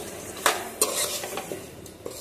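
Half a kilo of chicken for gongura chicken is stirred in a pan, giving scraping clinks of a spoon against metal over a light sizzle, the strokes close and irregular.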